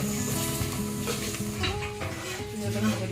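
Coconut, carrot and potato pieces stirred in a hot pan for sambar, giving a steady sizzle with scraping and clinking from the spoon throughout.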